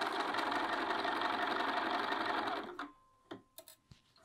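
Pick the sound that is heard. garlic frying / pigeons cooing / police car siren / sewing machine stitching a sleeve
sewing machine stitching a sleeve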